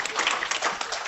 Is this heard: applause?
yes